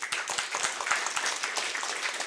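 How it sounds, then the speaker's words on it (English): A church congregation at its annual general meeting breaks into a round of applause, dense overlapping clapping that stays steady and fairly loud throughout, with no speech over it. "just give them a big round of applause"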